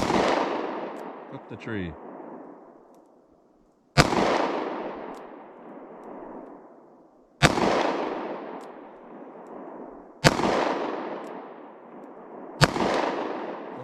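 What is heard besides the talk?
pocket pistol shots with Fiocchi Defense Dynamics ammunition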